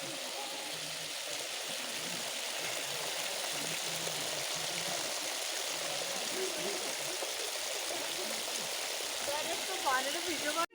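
Water pours from 108 stone spouts at the foot of a Ganesh image in a temple near Pokhara, a steady, diffuse wash of flowing water heard at a moderate distance throughout.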